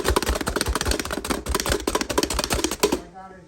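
Rapid, sharp chopping taps on a board in quick succession for about three seconds as an OXO Good Grips Vegetable Chopper chops carrots, close by, with a voice speaking over them.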